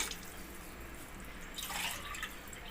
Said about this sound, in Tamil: இப்போ வந்து ரெண்டு கிளாஸ் தண்ணி விட்டுக்கிறேங்க